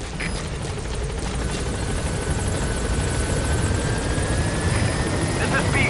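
Helicopter in Metal Gear Solid V: The Phantom Pain arriving at a landing zone, a loud steady rotor chop and engine drone filling the whole stretch, close and continuous, with a faint whine rising on top.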